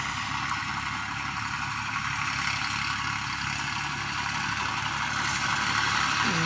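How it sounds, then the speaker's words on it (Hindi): Tractor engines running in a field, one still working nearby while another has stopped; a steady, droning mechanical hum with a constant low rumble, no voices. "भाई, दोनों ट्रैक्टर पास में चल रहे थे,"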